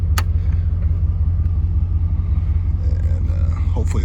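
Air suspension pump on a Jeep XJ Cherokee with a supercharged LS swap and Arduino-controlled air suspension, running as a steady, close, low droning hum throughout, with a couple of faint clicks.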